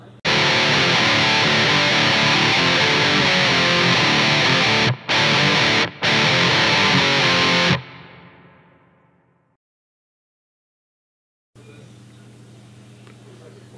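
Heavily distorted electric guitar playing a rock fill, loud sustained chords with two brief cuts, then ringing out and fading to silence before faint, quieter sound returns.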